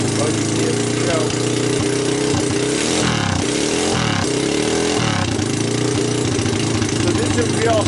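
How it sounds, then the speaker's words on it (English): An ATV engine that would only run on starting fluid, now running steadily with a fast, rough, loud putter and a brief dip in revs partway through, with a voice talking over it. "this is a real healthy sounding engine"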